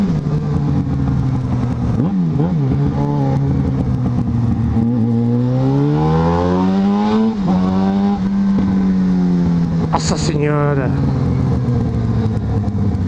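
A Yamaha XJ6 motorcycle in Braga, Portugal, its engine revving loudly and close, with pitch climbing and falling through repeated throttle blips, while a voice exclaims over it.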